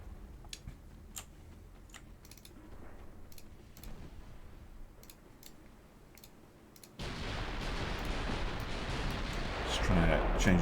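Warship guns in a Spanish dreadnought naval game fire a broadside, a sudden heavy roaring blast that swells and sustains loudly after a quieter stretch of scattered clicks and faint background rumble.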